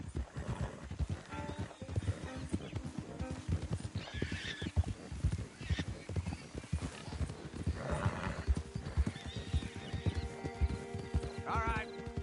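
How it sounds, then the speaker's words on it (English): Horses clip-clop steadily along a street in Saint Denis in Red Dead Redemption 2, the hoofbeats close and rhythmic over a busy town bed of carriage noise and distant chatter. "Don't want the horses clopping around outside the window."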